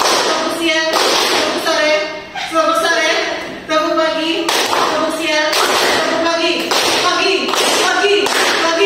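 Classroom students clap out the tepuk pagi, siang, sore rhythm game, bursts of loud, close group hand claps in quick patterned runs with brief pauses between sets, steady and energetic throughout.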